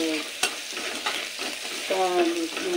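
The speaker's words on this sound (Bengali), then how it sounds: "হলুদ, লঙ্কা গুঁড়ো ভালো করে তেলের মধ্যে নেড়ে নিলাম।" Turmeric and Kashmiri chili powder being stirred in hot oil: a spoon scrapes and taps through a soft, steady sizzle, with a few sharper clicks and brief squeaky scraping strokes, close and fairly quiet.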